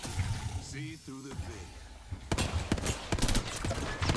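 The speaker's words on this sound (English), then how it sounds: "Yeah, I'm shooting him right now." Hemlock rifle fire in an online shooter game comes as a run of sharp, rapid cracking shots in the second half, following a brief stretch of a player's voice over game noise.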